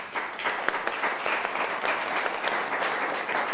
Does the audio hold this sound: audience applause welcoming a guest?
yes